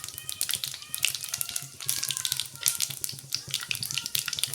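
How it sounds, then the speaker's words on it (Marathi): Mustard and cumin seeds crackle and sizzle in hot oil, a steady dense frying hiss with quick popping spatters throughout, close and fairly loud, with no talking. "आता तेल छान तापलं की आपल्याला टाकून घ्यायची अर्धा चमचा मोहरी"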